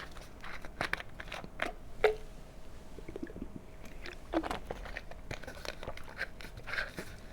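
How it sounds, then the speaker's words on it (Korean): Someone takes a drink of water close to a microphone, with soft scattered swallowing and mouth clicks over a quiet background, faint and irregular, no talking. "꿀꺽꿀꺽 소리가 마이크를 통해서 좀 들어갈 수 있으니까"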